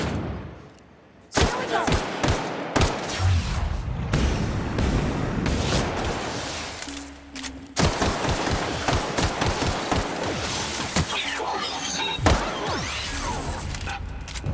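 Gunfire from The Outer Worlds game, loud repeated shots and bursts hammering almost without pause, with a few heavy impacts, after a brief quiet opening.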